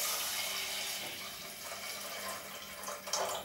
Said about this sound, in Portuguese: Vou juntar também um bocadinho de água e vou deixar cozer